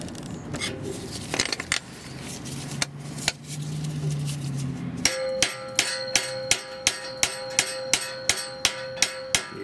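A Toyota Highlander catalytic converter gets struck with a hammer. Irregular metal knocks and scrapes come first, then a steady run of about a dozen loud, ringing metallic blows at regular intervals, close up.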